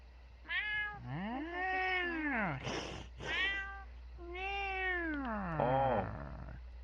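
A cat meows repeatedly up close, long drawn-out rising and falling cries in a steady series, loud and clear against a quiet background hum.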